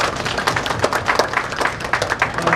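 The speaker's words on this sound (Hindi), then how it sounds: "इनके लिए जोरदार तालियां हो जाए।" A crowd at a Guru Purnima gathering breaks into enthusiastic applause for a bhajan singer, dense overlapping claps filling the room steadily for a few seconds.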